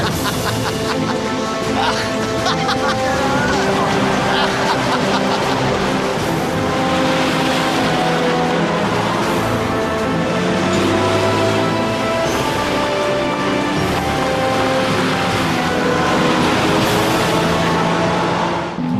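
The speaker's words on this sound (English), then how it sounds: "They can't wait to take this wood-burning beauty for a spin." A wood-gas powered truck fueled by burning wood drives along, its engine running loud and steady throughout, with voices talking and exclaiming over the motor.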